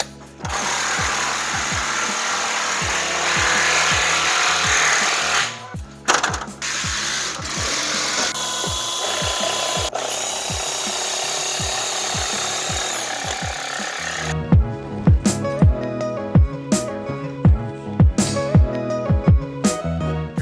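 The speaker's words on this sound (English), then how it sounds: "So I got a piece of tape on here letting me know how far I need to drill in, because that's roughly the length of my lag bolt." Power drill boring into wood to lag-bolt depth, a long loud steady whir that breaks off, then gives way to a ratcheting burst of rapid rhythmic clicks.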